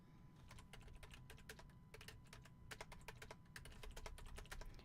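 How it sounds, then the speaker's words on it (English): Quick, light clicking on a computer keyboard, a fast irregular run of close keystrokes in short bursts over a low background hum, faint and with no talking. "Let me type this in."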